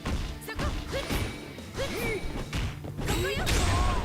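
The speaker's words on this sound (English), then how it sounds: "Beautiful Shatter Strike" Shatter Strike attack in an SNK fighting video game, a sharp smash landing amid whooshes and hits, followed by a louder crash at the end of a fast exchange.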